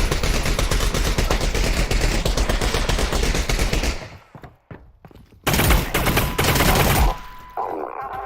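Gunfire rings out in the VR game Half-Life: Alyx, with a long run of rapid, loud shots, a short lull with scattered reports, and then another dense burst of firing.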